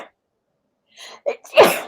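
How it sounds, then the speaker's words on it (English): A single sneeze, preceded by a brief sharp inhale and short catches of breath, then a loud, abrupt explosive burst that trails off, close to the mic in a quiet room. "Well, you're sneezing"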